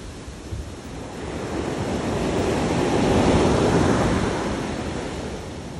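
Ocean waves wash onto a shore as a broad, rushing surf swell that builds to a loud peak midway and then recedes, with steady wind noise on the microphone and no voices.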